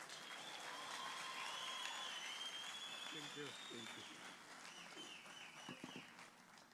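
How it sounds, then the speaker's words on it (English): Round of applause from a public lecture audience at a summit, a continuous wash of many hands clapping, fairly faint and distant, with a voice speaking over it partway through and whistling above. "May a round of applause now ring out with glee"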